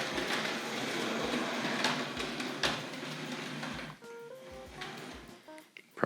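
A Hornby R.761 Kneller Hall model locomotive with Pullman cars running through points, giving a steady clicking clatter with regular sharp ticks, close by and fairly quiet, easing off toward the end.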